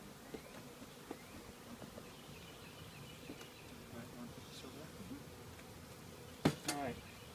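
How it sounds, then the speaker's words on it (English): Low, steady buzzing of many honey bees in a nuc hive being inspected fills the background, with a brief sharp knock near the end and faint voices in the distance. "there's more bees than I thought there were"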